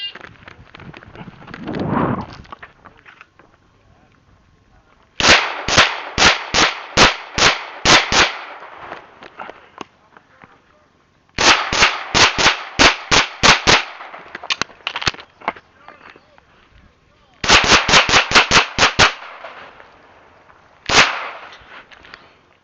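Rapid pistol shots in three fast bursts plus a few isolated rounds during a USPSA Carry Optics stage, loud and close, with sharp cracks separated by short pauses.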